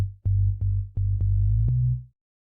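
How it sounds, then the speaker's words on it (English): Dry sub bass from the Ace VST synth with no effects, playing a short sequence of low sustained notes with soft clicky attacks, loud and alone, ending abruptly. "Without any effects, it sounds like this."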